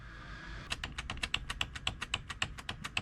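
Repeated presses of the delete key on a CyberPower PC keyboard, a fast steady series of about twenty crisp, close clicks after a short quiet start, with no talking.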